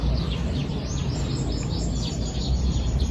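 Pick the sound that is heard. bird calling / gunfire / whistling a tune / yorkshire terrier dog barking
bird calling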